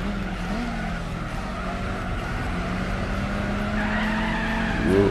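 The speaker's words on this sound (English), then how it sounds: "Oop, getting some wheel spin." Tires squeal and spin on an Isuzu sports classic in Gran Turismo 4, a sustained skidding whine over a steady engine drone that swells louder near the end.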